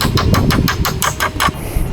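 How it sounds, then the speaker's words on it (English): A hammer taps a tight 5mm nylon insert into a tent pole, about eight quick, sharp, evenly spaced metallic knocks close by, growing slightly louder toward the end. "That one's a bit tight, so we might grab the hammer and just tap it."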